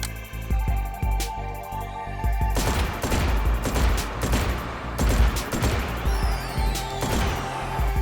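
A drum-fed 3-round burst shotgun fires in the VR game Hotdogs, Horseshoes and Hand Grenades, giving a loud run of heavy, rapid booming shots in quick clusters, with metallic clanks and ringing tails in between.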